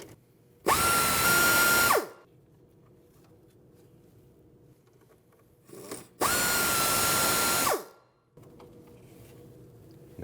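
Power tool spinning out two 12mm bolts during front control arm work on a 2012-2016 Honda CR-V, two loud close whirring bursts of about a second and a half each, separated by quiet shop background.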